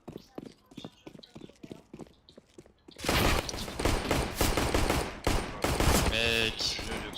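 CS:GO gunfire erupts in rapid bursts of automatic shots, loud and dense, after a few seconds of quieter clicks and footsteps, with someone talking over the shooting.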